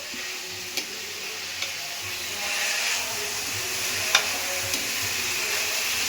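Loud, steady sizzle of ginger garlic paste frying in a pan for egg rice, close up, with a few sharp clicks of stirring against the pan, no talking.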